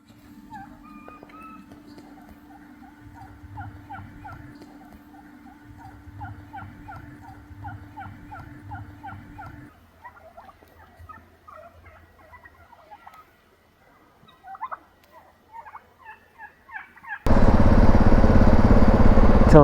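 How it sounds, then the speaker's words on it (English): A bunch of wild turkeys gobble repeatedly in the Black Hills of South Dakota, rapid rattling calls in bursts over a low idling motorcycle engine, ending with a sudden loud blast of wind or engine noise. "there's a bunch of turkeys over there"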